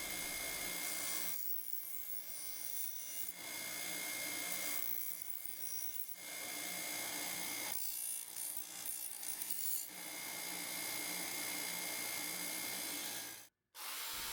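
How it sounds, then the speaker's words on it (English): A knife edge being ground flat on an abrasive tool in rough, rasping passes of a few seconds each, separated by short pauses, with one abrupt cut-off near the end. "Now we're just going to grind the edge totally flat"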